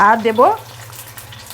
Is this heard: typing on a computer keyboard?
no